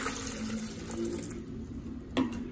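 Water pours steadily from a tap into a blender jar holding banana, apple and half a lemon. The trickle is soft and close, with a short splash toward the end.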